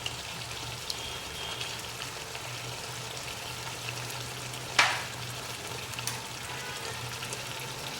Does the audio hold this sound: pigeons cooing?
no